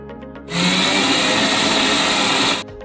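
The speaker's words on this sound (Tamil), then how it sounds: "இந்த தேங்காய் கூடவே ஒரு 50 கிராம் போல் சக்கரை சேர்த்து நல்லா மிக்ஸ் பண்ணி அரைச்சி எடுத்துக்கலாம்." A kitchen mixer grinder runs loud and steady for about two seconds, whirring as it grinds coconut with sugar, starting and stopping abruptly.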